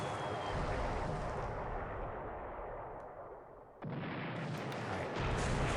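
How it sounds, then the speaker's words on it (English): Heavy booming blasts of torpedoes striking light cargo ships in the naval war game War in the Pacific, a dense continuous roar that dips briefly before swelling again, loud and close. "we just nuked two light cargo ships here with a lot of torpedoes"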